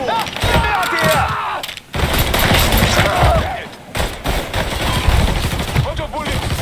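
Rapid gunfire in a Mafia III gunfight, dense bursts of shots and impacts running almost continuously, briefly dropping out twice, with voices shouting over the shooting.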